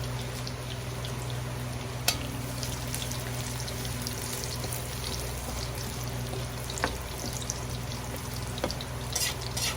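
Garlic fries in margarine for a chicken feet dish, giving a steady, even crackling sizzle with a low hum under it and an occasional louder pop or clink, heard on its own with no talk.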